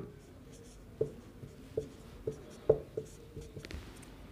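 Numbers are written by hand, a pen tapping and scratching in short regular strokes close by, with a quiet voice under them.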